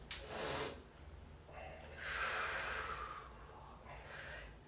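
Soft, close breaths during a yoga lunge, a few airy inhales and exhales rising and falling in a loose rhythm, quiet and without talk.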